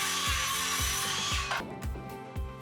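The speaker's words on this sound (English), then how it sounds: "Time to get the oscillating tool back out, which made light work of cutting the drywall." An oscillating multi-tool cuts drywall between wall studs, its loud buzzing whine pulsing in quick regular strokes before the blade stops and a few faint knocks and scrapes follow, close up with no talk.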